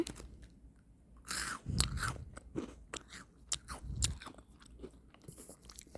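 Bites and chewing of crunchy Crayon Shin-chan chocolate biscuits, close and crisp, with several sharp crunches followed by steady munching and no talking.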